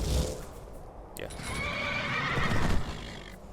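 A horse in the video game Skyrim lets out a loud, shrill whinny with a rising and falling call, accompanied by a brief clip-clop of hooves and some background voice.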